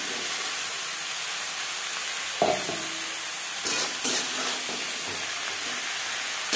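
Chilli, tomato and spring onion stalks sizzle steadily while being stir-fried in a pan over a high-to-medium gas flame, with a continuous hiss and a few brief clatters of stirring.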